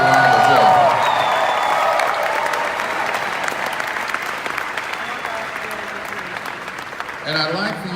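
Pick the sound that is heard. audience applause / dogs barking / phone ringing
audience applause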